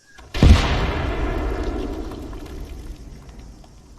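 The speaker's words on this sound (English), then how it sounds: "Detonate all at one time" Planted explosives detonated together to bring down a tall building, one sudden heavy blast followed by a long rumbling, crackling decay that fades over several seconds at a distance.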